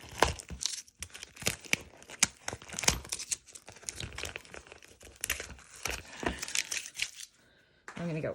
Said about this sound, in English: I'm gonna stick my hand in and I'm gonna pull off some tapes.